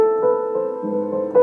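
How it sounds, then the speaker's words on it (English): A Zimmermann 109 upright piano plays with the practice felt pedal down, so felt sits between hammers and strings. The notes sound soft, dull and muffled. A few sustained tones overlap, close and steady, with no voices. "it puts a felt in between the hammers and the strings to give you a quieter"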